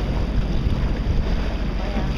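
A jet ski idling on Lake Tahoe, a steady low engine rumble mixed with wind buffeting the microphone and water noise, continuous and close.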